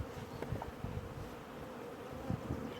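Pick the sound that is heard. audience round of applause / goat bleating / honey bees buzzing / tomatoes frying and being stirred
honey bees buzzing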